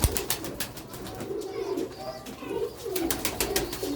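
Several young Sialkoti pigeons of an old Master Abdullah line coo softly in repeated low, rounded calls close by, with faint rustling and brief chirpy sounds around them and no talking.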